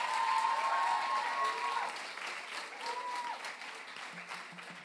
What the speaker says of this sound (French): Et on peut les applaudir bien fort, s'il vous plaît.